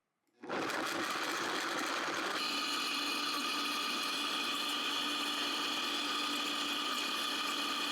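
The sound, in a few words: high-powered blender blending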